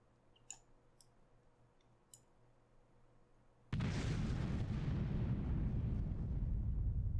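Bombs from a B-17 formation strike the target in the Mighty 8th air-combat game: after a quiet stretch with a few faint clicks, a sudden loud, sustained rumbling barrage of overlapping explosions rolls on continuously.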